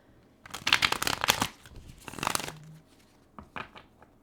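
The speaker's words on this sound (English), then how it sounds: "We're doing a little tarot shuffling now." Tarot deck shuffled in close, soft bursts of papery riffling and sliding, two longer runs followed by a few short taps, with no voices.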